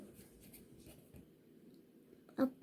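Chalk or marker scratches across a classroom board while a verb is written out during a French conjugation exercise, faint, soft strokes ending in a sharper tap near the end.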